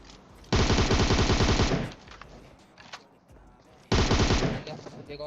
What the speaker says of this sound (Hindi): और कोई तो यहाँ पे MK14 चला रहा है।